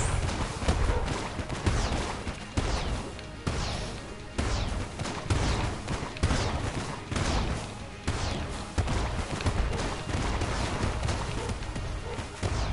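Shotgun fire in the Enter the Gungeon bullet-hell game, with loud, dense, repeated blasts going off steadily and without pause, mixed with other game sounds.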